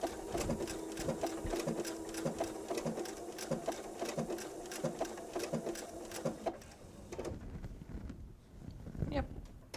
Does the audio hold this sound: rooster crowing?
no